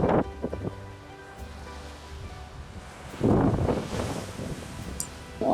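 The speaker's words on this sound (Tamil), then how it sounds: "அந்த அலையும் அந்த மணலில் இருக்க கல்லோட சத்தமும் வந்துட்டு மைண்டை ரொம்ப ரிலாக்ஸ் பண்ணிடும்" Waves wash and break on the pebble beach at Durdle Door, Dorset, with wind buffeting the microphone, one larger surge rolling in midway and another starting at the end.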